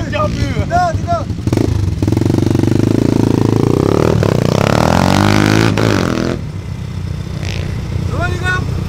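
Motorcycle engine revving loudly and close during an outdoor group ride, rising and falling in pitch as the throttle opens, with short voices heard at the start and end.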